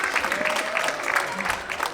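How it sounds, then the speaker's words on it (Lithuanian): Audience applause at a children's ensemble's 32nd anniversary concert, a dense, continuous patter of many hands clapping, fairly loud and even throughout. "Plojimai."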